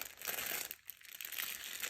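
Transparent plastic packaging with a zipper closure crinkles and crackles as it is handled close up, a steady rustling that dips briefly before picking up again.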